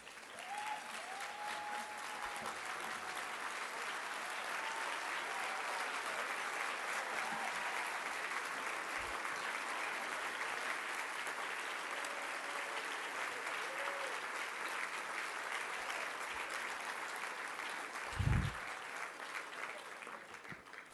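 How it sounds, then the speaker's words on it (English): A large audience at a gala speech event gives a sustained standing round of applause, a broad even roar of clapping that holds steady and fairly distant throughout, with a brief low thump near the end. "stand up and give them a round of applause"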